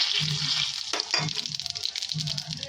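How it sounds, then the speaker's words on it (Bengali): Cumin seeds and bay leaf hitting hot oil for a chicken kosha tempering, a loud close crackling sizzle with bursts of popping and a couple of sharp spatters, plus low stirring scrapes underneath. "প্রথমেই ফোড়নে আমি এই যে জিরে আর তেজপাতাটা দিয়ে দেবো"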